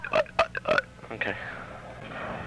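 A burp after drinking Mountain Dew comes as a few short, voiced croaks followed by a trailing throaty release, close to the microphone and fairly quiet.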